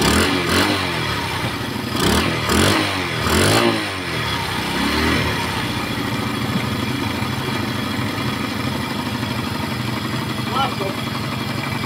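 A noisy Rusi Delta motorcycle engine keeps running close by in a loud, steady drone, with several sharp rattling bursts early on before it settles into an even idle.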